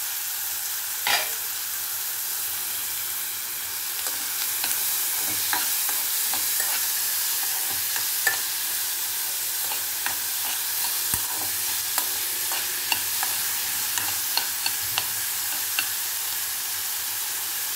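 Green peas frying in a hot pan for a quick Indian side dish, a steady soft sizzle broken by repeated scraping clicks of a spoon stirring them, close and moderately quiet with no talking.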